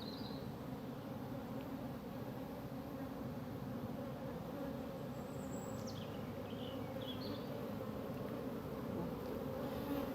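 Trembling honeybees affected by chronic bee paralysis virus buzz in a steady, low droning hum that never lets up, fairly quiet and even, with a few faint high chirps.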